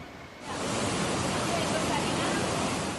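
Floodwater in southeastern Spain after extreme rainfall rushes as a wall of water through streets, sweeping cars and trucks along, a steady loud broadband roar that surges in after a brief quieter moment and holds.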